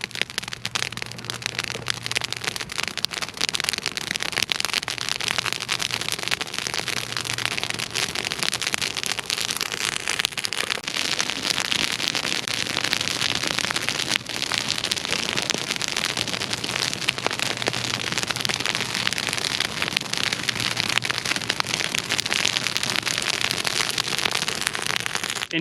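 Dry vegetation crackles and roars steadily in a prescribed burn on a farm, a dense, continuous hiss of burning with scattered pops, close and loud throughout with no talk.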